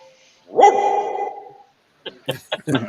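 A single close dog bark rings out clearly, followed by a pause and then a few short bursts of talk from people nearby.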